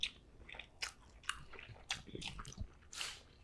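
Someone chewing A-sha noodles with fire noodle sauce, close up, moist slurpy bites and squishy chews in an irregular rhythm over a quiet background, with no talking.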